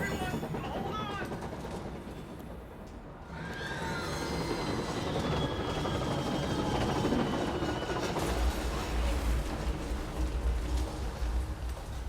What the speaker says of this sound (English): This train seems to remember what happened to it.